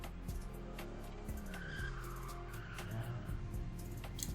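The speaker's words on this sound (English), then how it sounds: "Tara's car roars up to the curb and screeches to a halt." A car engine roars and tires screech and skid as the vehicle pulls up hard to a curb in the Chasing Sunsets video game, a loud sustained squeal with engine noise throughout and no talking.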